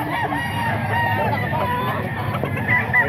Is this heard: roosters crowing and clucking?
yes